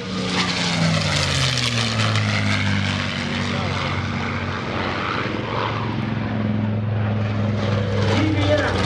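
A Merlin-engined P-51 Mustang warbird flying past at an airshow, a loud propeller drone with shifting pitch as it passes, with a voice talking over it.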